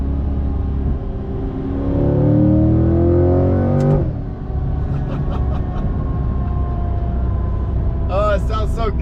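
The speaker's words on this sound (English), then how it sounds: "Mixed with my loud exhaust, it's just like a really visceral experience" A Chevrolet C8 Corvette fitted with a Halltech Hornet intake and loud exhaust revs up, its engine note climbing and falling, then settles to a rumbling idle with short blips, loud and close.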